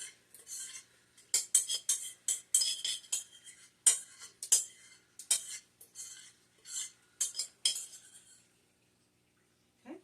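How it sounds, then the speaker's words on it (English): A spoon scrapes and clinks against a pan while spreading grain-free cracker batter, a run of close, irregular metallic taps and scrapes that stops near the end. "I usually take my spoon and kind of spread it out"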